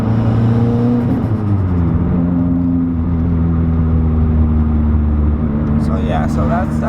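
Mitsubishi Evo X car engine with a turbo surge problem, a loud steady idle with a fluctuating, surging tone, heard up close with no speech.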